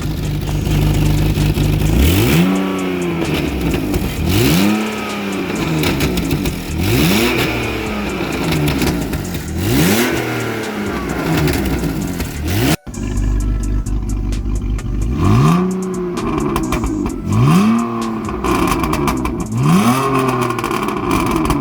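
A car engine is revved repeatedly through its exhaust, about eight loud, rising-and-falling bursts in a steady rhythm, close by and alone with no talk.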